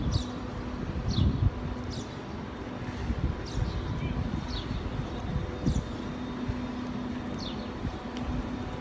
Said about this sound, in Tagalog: Pero mahangin siya mga labs.